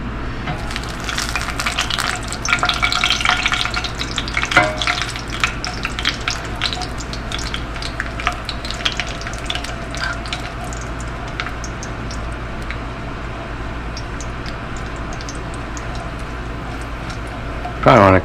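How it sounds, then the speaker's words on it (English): Fried garlic chips being drained from hot frying oil, with a steady crackling sizzle and bursts of oily spatter running throughout and a sharper clatter at the very end. "put this in here so that we can drain it and keep the garlic chips"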